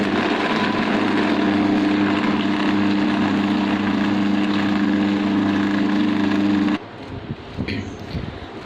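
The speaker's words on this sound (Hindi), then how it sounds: "इसलिए हम आपके सामने ये ग्राइंडर वाला जग इस्तेमाल कर रहे हैं" An electric grinder jug whirs loudly and steadily, grinding chicken with other ingredients for nuggets, then cuts out near the end, leaving softer rattling and handling noise.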